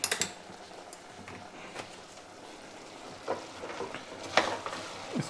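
White gravy chicken with salted butter being stirred and mixed in a pan on the stove: soft, low sizzle under scattered scraping and utensil knocks, a few sharper clicks near the end, no speech.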